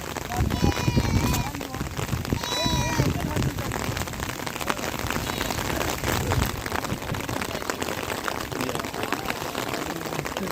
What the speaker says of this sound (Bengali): যত সময় যাচ্ছে এখানে বৃষ্টিও বাড়ছে পানিও বৃদ্ধি পাচ্ছে